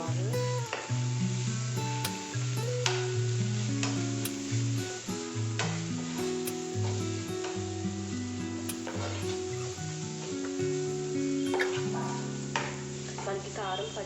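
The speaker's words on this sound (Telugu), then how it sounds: "మనకి కారం పచ్చివాసన పోయేంత వరకు కూడా మనం ఇలా ఫ్రై చేసుకోవాలి." Ginger garlic paste and chili powder fry in oil for a capsicum and beans curry, a continuous close sizzle with stirring under music.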